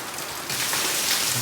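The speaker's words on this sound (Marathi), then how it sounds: "असा जो धबधबा तुम्ही पाहिलं का कोकणात?" A Konkan waterfall pours in a dense, steady hiss of falling water, loud and close, growing slightly stronger midway through.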